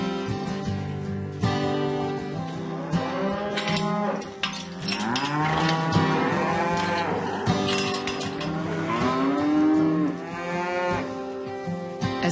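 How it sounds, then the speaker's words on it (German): Hereford mother cows with their calves moo repeatedly on a farm, long tonal bellows overlapping one another, close and loud, with a deeper voice and higher calf calls alternating. "Es sind Hereford-Mutterkühe mit ihren Kälbchen."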